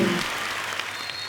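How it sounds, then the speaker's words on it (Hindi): A television comedy show studio audience claps steadily, a dense wash of applause filling the room without pause. "तालियां जोरदार होनी चाहिए."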